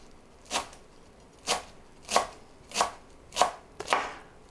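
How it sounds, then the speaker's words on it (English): Knife chopping fresh greens for cold beet soup on a board, six sharp evenly spaced strikes about two-thirds of a second apart, close and clear with no talking. "Try chopping them as finely as you can."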